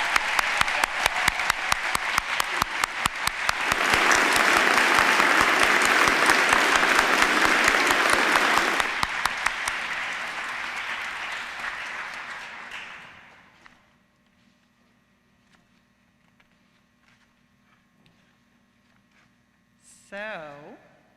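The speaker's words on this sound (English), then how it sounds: "So I think it's time for a wonderful round of applause for all of our graduates in person" Graduation audience at a university commencement applauding the graduates, loud dense clapping that swells in the middle then thins out and fades to a faint electrical hum, with a brief voice near the end.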